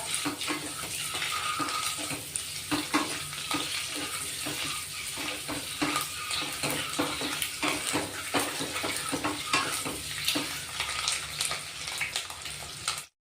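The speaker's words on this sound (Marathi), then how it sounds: "थोडी खरपूस परतून घ्यायची अंडी" Eggs sautéing in a pan for egg masala, a steady watery sizzle with frequent scraping and clinking of a spatula against the pan throughout, close and fairly loud, ending abruptly.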